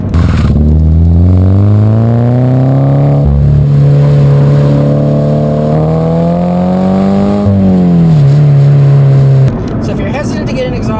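A Scion FR-S with a TRD exhaust and intake revs steadily up and down in a loud, close, smooth drone that holds and then drops off near the end, with someone talking over it.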